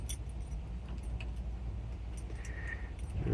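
Car keys jangle in the ignition of a 1976 Dodge D100 Adventurer Club Cab sitting in a junkyard, a soft metallic rattling that continues faintly through the clip over a steady low rumble.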